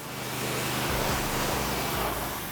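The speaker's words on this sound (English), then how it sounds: "and then hose it back off" Garden hose spraying water to rinse loosened dirt and cleaner off a dirt bike, a steady broadband hiss that holds evenly throughout.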